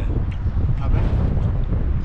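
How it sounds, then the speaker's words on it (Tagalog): Wind blows outdoors, buffeting the microphone with a steady, loud low rumble that continues throughout. "mahangin."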